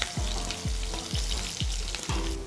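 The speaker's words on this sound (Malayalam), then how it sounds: "ചുമന്നുള്ളി നല്ലപോലെ മൂപ്പിച്ചെടുക്കണം." Chopped shallots sizzle in hot oil right after mustard seeds have popped, a tempering for sweet rasam; a steady close frying hiss runs throughout, with five regular stirring scrapes at about half-second intervals.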